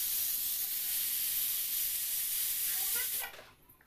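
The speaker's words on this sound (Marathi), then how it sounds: "मी कुकरच्या 4 शिट्ट्या काढून घेतल्या आणि संपूर्ण वाफ जाऊ दिली" Pressure cooker used for street-style pav bhaji releasing steam in a loud, steady high hiss that suddenly cuts off near the end, followed by faint clatter, close by and with no talk.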